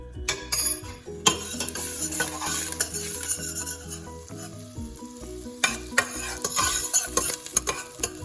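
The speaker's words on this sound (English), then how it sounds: "I cut it in pieces, just add in there." Chopped garlic cloves cooking in a soup pot, bright close sizzling with repeated scraping and knocking of a spoon against the metal as it is stirred, no speech.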